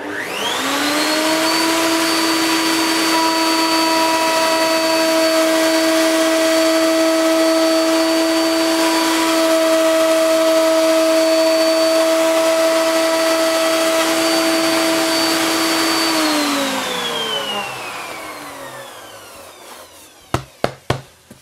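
Router table cutting a groove in wood with a hoover-style vacuum extractor switched on alongside it, a loud steady whining drone held for about seventeen seconds, then winding down, followed by a few sharp knocks.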